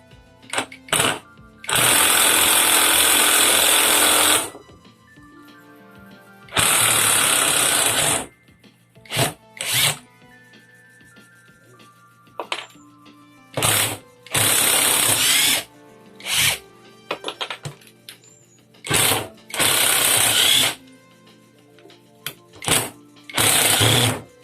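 An OKS impact driver drives a screw. It runs in several loud, buzzing, rattling bursts a few seconds long, split by pauses and a few short blips, and nobody talks.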